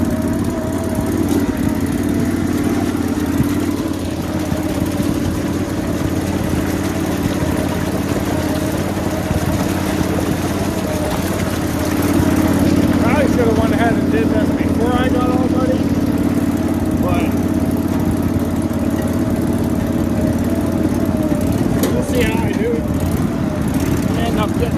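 A lawn mower fitted with paddle tires drives along a trail, its engine droning steadily and close throughout with some rattling, a little louder in the second half.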